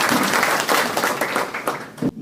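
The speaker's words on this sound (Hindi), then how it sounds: "एक बार जोरदार तालियां" Dense applause from an audience at an annual seminar, loud and continuous for about two seconds before cutting off abruptly.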